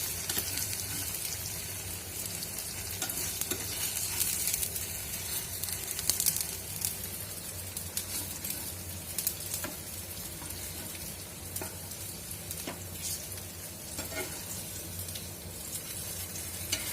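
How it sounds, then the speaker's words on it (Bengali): Steady sizzling and crackling of paneer frying in hot oil fills the clip, close and continuous, with small pops scattered throughout. "পনিরগুলো ভাজা হয়ে গেছে"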